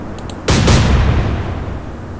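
Naval gunfire from a warship in the Atlantic Fleet video game: a single loud deep boom with a rumbling tail, preceded by two faint clicks.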